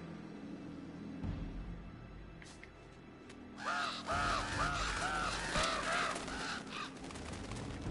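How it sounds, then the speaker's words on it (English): Crows cawing in the video game Uncharted 2, in a snowy area: a flurry of repeated harsh caws starts suddenly midway and continues loud and close over a low ambient rumble, with no speech. "It was the birds."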